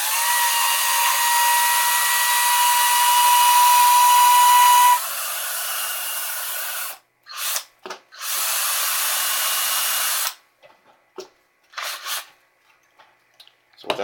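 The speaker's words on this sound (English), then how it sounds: "hold your end at the end of the drill, and then just start spinning." A power drill twisting number 2 copper wire whirs steadily at high speed for several seconds, then runs in short on-off bursts, with pauses of silence between.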